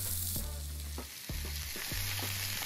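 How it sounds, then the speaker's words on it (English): Oxtail browning with carrots, celery and onion in a pot, frying with a steady close sizzle while a utensil scrapes and stirs in several distinct strokes. "Give everything a good stir and cook for around about 5 to 7 minutes"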